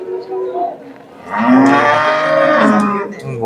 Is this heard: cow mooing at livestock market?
yes